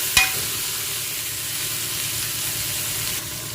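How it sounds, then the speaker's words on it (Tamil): Mint and coriander leaves sauté in hot oil for a mutton biryani, a steady dense sizzle that runs throughout after a brief sharp crackle at the start when they hit the pan, with no talk. "இப்போ இது ரெண்டையும் போட்டு நல்லா வதக்கி விட்டுருணும் இது எண்ணெயிலே போடுறனால பிரியாணி ரொம்ப வாசமாக இருக்கும்"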